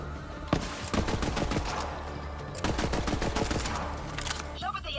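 Gunfire rattles in bursts in the video game Borderlands 3, two rapid volleys of close, loud shots with a brief lull between them and a few scattered pops trailing at the end.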